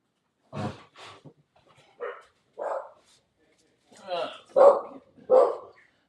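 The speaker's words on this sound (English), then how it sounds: "You probably can hear her barking" A dog barks several times in short bursts, fairly close, with pauses between, the later barks louder and sharper.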